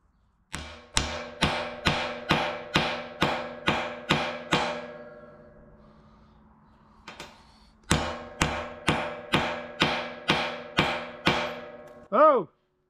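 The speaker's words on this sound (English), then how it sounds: "You can see the hammer dents in it." A hammer strikes a refined gold bar in a steady run of sharp, ringing metallic blows, about ten at first, then a pause with faint sound and a brief voice, then another rapid series of strikes.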